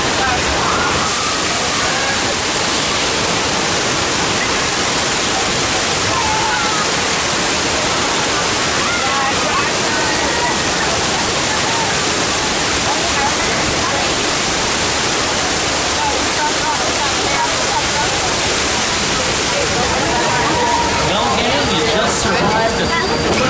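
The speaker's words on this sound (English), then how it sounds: "Water main broke on the right-hand side." Loud rushing water from a simulated broken water main on a Universal Studios Hollywood studio tour ride, a dense, continuous roar that fills the whole stretch without a break, with crowd noise faintly mixed in.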